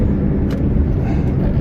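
A truck passing on the road, heard from inside a driving car as a loud, steady low rumble of road and engine noise.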